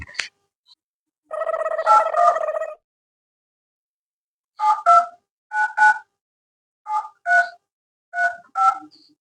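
Telephone keypad dialing tones as someone calls a number: a first burst of paired tones, then ten short beeps in quick pairs, clear and close with no talking over them.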